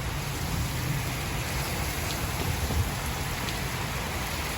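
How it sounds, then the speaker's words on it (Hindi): Steady, dense hiss of heavy rain pouring continuously in Islamabad on 14 August, with no voices and a constant loud wash throughout. "इतनी ज़बरदस्त बारिश हुई"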